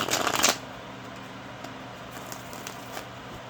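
Tarot cards riffled by hand in one short, loud, close burst at the start, followed by a quiet room with a few faint taps.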